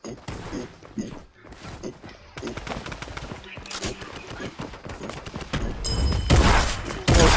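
Gunfire rattles in the John Wick's Bounty video game, rapid bursts and single shots crackling over several seconds under excited talk, building to louder, denser firing at the end.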